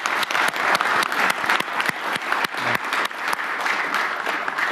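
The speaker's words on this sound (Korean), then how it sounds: "우리 참여해 주신 분들한테 감사의 박수를 한번." Sustained applause from a seated group at a government cabinet meeting, a dense steady patter of many hands clapping fairly close, with no talk over it.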